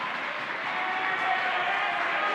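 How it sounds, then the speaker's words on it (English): Broad roar of a crowd packed into the York Suburban school gym in the final minute of a high school basketball game against Kennard Dale, steady and loud throughout with scattered clapping mixed in. "The crowd noise tells you."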